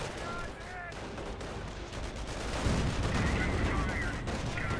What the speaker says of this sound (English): Sherman tank firing, getting repaired on up.